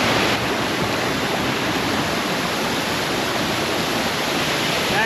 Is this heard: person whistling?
no